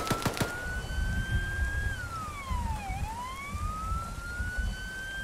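Vehicle siren in the video game Arma III climbing uphill toward the listener, a loud wailing tone that rises, dips sharply and sweeps back up, with rumbling engine and ambient noise beneath and a few sharp clicks at the start.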